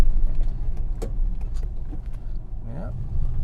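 A Rover P5B car driving along a quiet road, giving a steady low rumble of engine and tyre noise that holds throughout, with a faint brief whine near the end.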